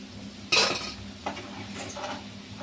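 Vegetable manchurian balls sizzle in hot oil as a utensil stirs them in the pan: a loud scrape and clatter, then softer stirring knocks over a steady frying hiss, heard up close with no talking.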